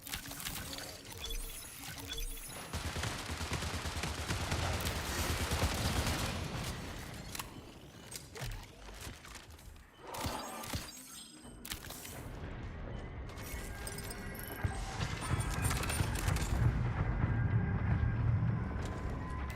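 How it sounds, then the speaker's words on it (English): A gun reloaded in a video game, with mechanical clicks and clatter mixed among bursts of gunfire and busy game noise that swell and drop across the stretch. "Gotta reload."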